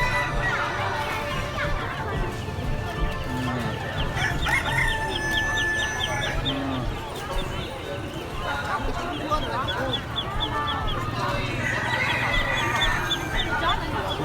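Roosters and other fowl for sale at a cockfight market along the Ha Giang loop in Vietnam, with repeated crowing and clucking over a busy crowd and people talking throughout.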